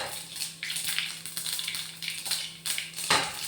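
Mustard and fenugreek seeds splutter and crackle in hot oil for a pickle, a steady close-up sizzle dotted with sharp pops and no speech.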